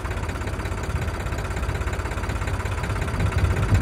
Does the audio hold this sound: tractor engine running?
yes